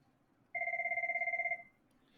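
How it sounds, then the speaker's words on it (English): A phone rings with an incoming call in a classroom, a single trilling electronic ring about one second long, moderately loud over a quiet room. "phone call"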